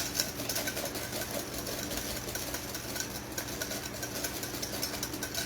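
Electric mixer beating hot, slightly lumpy coffee cream pie filling, a steady whirring motor drone running close and loud throughout with no pauses.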